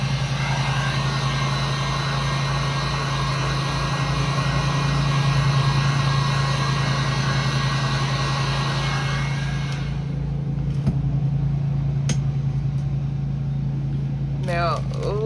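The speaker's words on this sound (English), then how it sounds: "Y'all excuse the lawnmower" A lawnmower drones steadily at a distance, a constant low engine hum that runs throughout and fades partly toward the end, with faint noises near the close.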